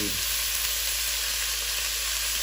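Lamb sizzles and fries steadily in a hot pan for a lamb and white bean soup, a continuous close, even hiss with no talking over it.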